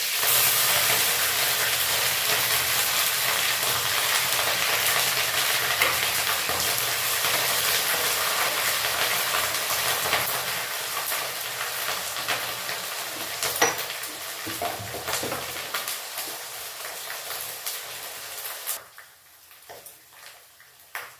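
Radhuni seeds and dried red chillies sizzle in hot oil in a pan, a dense, steady crackling hiss that fades slightly midway and drops off sharply near the end.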